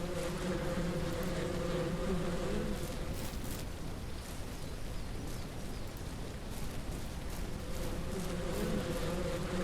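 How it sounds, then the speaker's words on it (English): Bees drone steadily around a beehive on a tree in the farming game Ranch Simulator, a dense continuous buzz that stays loud and close through the whole stretch with no talking. "Was that a beehive on that tree?"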